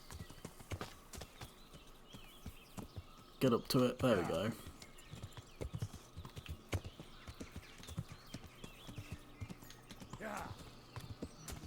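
A horse's hooves clip-clop on a rough outskirts path in the game Kingdom Come: Deliverance, the steady footfalls close by with a brief snort or whinny partway through, faint birdsong behind, and someone talking over it.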